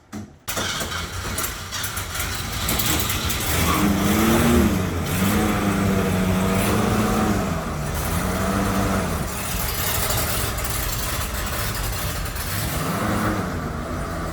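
A 1936 Divco bread truck with a swapped V8 cranks and starts after years of sitting, then settles into a loud, steady idle with revving swells, close by.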